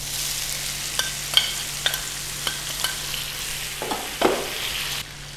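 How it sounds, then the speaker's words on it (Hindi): Chopped tomatoes and green chilies frying in hot oil, a steady close sizzle under a low hum, broken by several sharp clicks of a spoon or spatula stirring, then cutting off near the end. "ऑयल में डालेंगे हम यहाँ पर 3 अदद टमाटर और 3 अदद हमने यहाँ पर हरी मिर्च ली है।"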